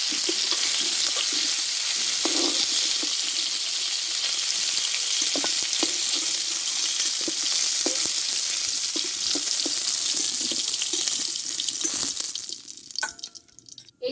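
Cauliflower fries in hot oil in a village-style cooking setup, a loud continuous crackling sizzle close up that dies away near the end, with a few faint clatters and no speech.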